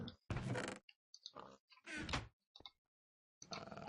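A door being placed in a video game, heard as several short sliding and thudding door sounds in quick succession, separated by silent gaps.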